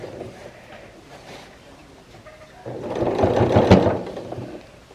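A sewing machine sews a denim jean skirt along a stitching line, starting with quiet handling and short bursts, then a louder sustained run of stitching in the second half, close up with rustling fabric.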